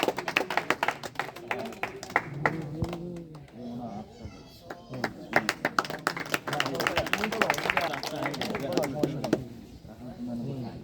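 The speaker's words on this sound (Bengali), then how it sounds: "হাততালি দাও" Clapping at a prize-giving ceremony for a cricket league, irregular claps from a small crowd mixed with children's voices and chatter, with someone speaking over the hands.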